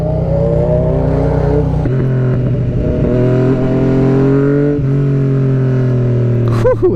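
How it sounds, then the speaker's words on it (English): Yamaha MT-09 motorcycle engine revving while riding, a loud, close, rasping roar climbing in pitch through several gear changes with brief dips between pulls, under steady wind noise. "Whew, it does sound good though."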